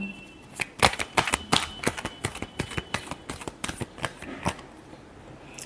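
Tarot cards are shuffled by hand, producing a quick series of crisp riffling flutters and snaps, close and fairly quiet, in irregular bursts over a few seconds.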